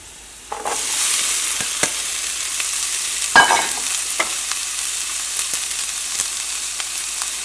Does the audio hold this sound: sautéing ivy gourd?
yes